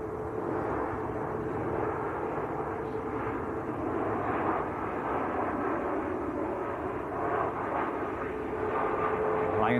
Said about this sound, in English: Ryanair Max just touching down